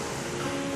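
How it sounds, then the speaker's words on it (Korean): Rough ocean surf rolls onto a steep sandy beach where newly hatched sea turtles head for the sea, a steady close wash of breaking waves heard alone for under a second. "파도가 거칠게 부릅니다."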